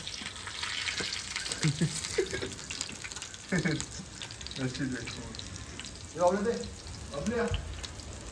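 Surmai and halwa fish fry in a pan with a steady sizzling hiss, accompanied by some clattering and water-like sounds, while people talk and call out loudly at moments.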